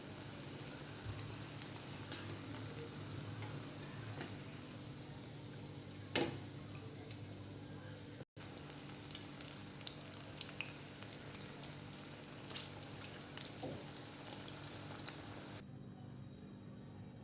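Corn pakoras sizzle steadily as they deep-fry in hot oil, a continuous bubbling hiss with a few sharper pops throughout, heard alone with no talking.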